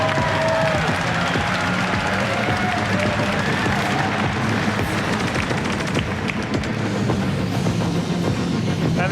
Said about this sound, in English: That was definitely a reason to cheer.